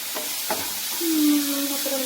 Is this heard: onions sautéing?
yes